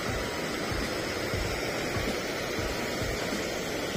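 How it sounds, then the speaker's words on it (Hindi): A waterfall roars right beside a mountain camp on the Kuari Pass trek, a dense, unbroken rush of falling water that is loud and close throughout, with no voices. "बाजू में एकदम बाजू में से ना वाटरफॉल हो रहा है"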